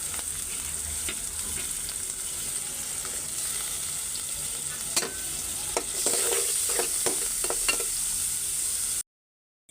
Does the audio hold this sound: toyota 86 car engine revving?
no